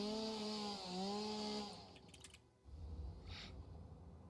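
Chainsaw in the Satisfactory factory-building game: a short buzzing engine whine that wavers in pitch for under two seconds, then cuts off into quieter, rougher mechanical noise and a lower rumble.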